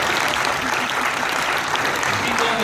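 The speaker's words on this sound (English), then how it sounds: "Give a round of applause for Mrs." Steady, dense applause from a crowd at the opening of an auction at Knott's Berry Farm, a loud, continuous roar of many hands clapping with a faint murmur of voices underneath.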